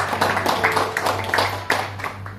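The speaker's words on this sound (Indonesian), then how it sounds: "Tepuk tangan bagi anak kita." A small crowd claps for a child at a church gathering, with scattered quick claps over a steady low hum and some background voices.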